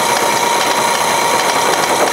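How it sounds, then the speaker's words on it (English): Homemade junk tumbler turning too slowly, its contents sliding rather than tumbling, giving a loud, continuous mechanical rumble and rattle with a motor-like drone throughout. "It needs to go a little faster to make it actually tumble instead of just slide."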